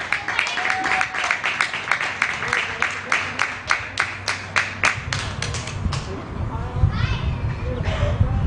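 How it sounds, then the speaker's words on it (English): Rhythmic clapping from a crowd at a high school baseball game's player introductions, steady repeated claps for several seconds with children's voices and chatter mixing in as it fades. "Please give a round of applause for Hayden Crawford."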